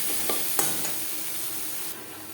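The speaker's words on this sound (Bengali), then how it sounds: "মশলার সাথে গুঁড়ো মশলা বেশ ভালো করে মিক্স করে দেবো।" Spices sizzle steadily in a hot pan with a few sharp scraping taps of a spoon as fried whole spices are stirred together with ground spices, including black pepper and turmeric, while preparing vegetable dalia khichuri.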